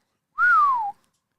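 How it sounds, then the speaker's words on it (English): A person lets out a single low whistle that slides gently downward, clear and close, lasting about half a second in otherwise quiet surroundings. "Jackadros lets out a low whistle."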